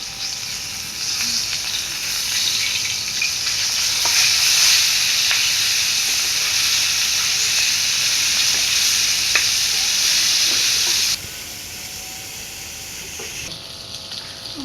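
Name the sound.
rohu fish frying in oil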